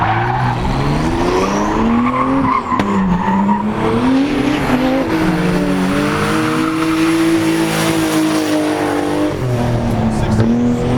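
A loud turbocharged car engine roars and revs continuously up close on a race track, pitch climbing and dropping as it shifts gears, with faint tire noise underneath.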